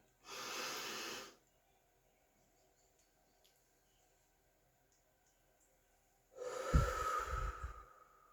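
Deep breathing during a guided meditation: one long, steady breath near the start, then after a silent pause a second, louder breath with a rough, snorting edge, both close.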